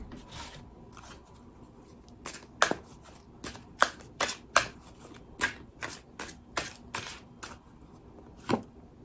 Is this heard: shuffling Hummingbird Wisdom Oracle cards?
yes